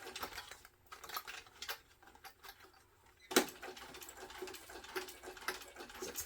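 Sewing machine stitching a backpack seam with an intermittent click, a quiet rapid mechanical ticking in bursts with pauses, plus one sharp louder knock partway through, close up and without speech.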